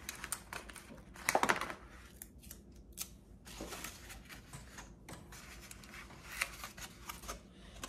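Tape is handled and pressed on to reinforce a wildebeest headdress, giving close, irregular crackles, sticky peeling rasps and small clicks in scattered bursts.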